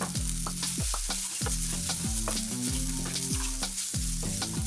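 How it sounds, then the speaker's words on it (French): Onions and garlic frying in a pan, a loud continuous sizzle with repeated clattering stirs of a utensil against the pan at a steady pace. "je vais faire revenir les oignons et l'ail"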